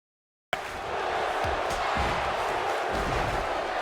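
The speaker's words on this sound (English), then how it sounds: "You hear the crowd saying, "This is awesome."" Wrestling event crowd at a ladder match roaring and chanting in unison after a sudden start, a dense, steady wall of many voices with rhythmic pulses, loud and continuous.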